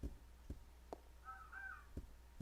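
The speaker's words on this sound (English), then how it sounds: "I don't like crows in this game." Crows caw in the survival horror game Resident Evil 0, a faint distant harsh call amid quiet ambience and a few soft thumps.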